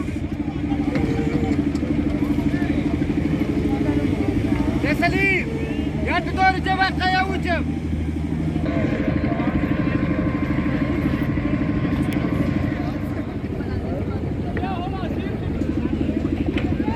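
Motorcycle engine running steadily on a mountain road in Hopar Valley near Rakaposhi Peak, a loud, continuous low drone lasting throughout, with voices talking over it.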